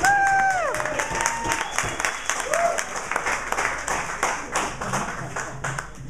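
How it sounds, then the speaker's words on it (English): Applause and clapping at an arts festival fundraiser in San Francisco, moderately loud rhythmic hand claps from a small crowd with voices and a few whoops mixed in at the start. "Give them a round of applause, please."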